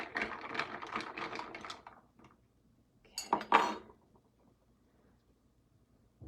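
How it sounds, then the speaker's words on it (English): A spoon clinks rapidly against a glass while stirring a tequila sunrise with soda, in two short bursts of tinkling separated by a pause, then quiet. "I'm just gonna stir it up."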